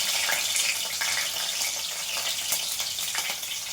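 Curry leaves and green chillies sizzle in hot oil for a tempering, a dense, continuous bright crackle and hiss with small pops scattered through, close up and steady with no voices.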